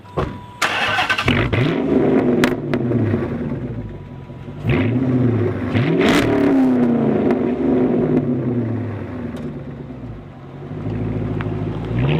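A Dodge Magnum fitted with dual Flowmaster Outlaw exhausts revs repeatedly, deep throaty bursts rising and falling in pitch between brief dips, loud and close with no talk.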